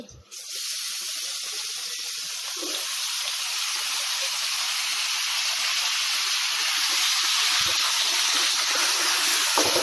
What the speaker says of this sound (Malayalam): ഇതിലേക്ക് നമ്മുടെ ബീഫ് ഇട്ട് കൊടുക്കാം കറി വെച്ച ബീഫാണേ